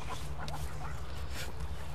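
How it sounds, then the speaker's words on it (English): Ducks quacking outdoors in fresh air, a few short calls scattered over a steady low hum, moderately distant and not very loud. "Here, little duck duck."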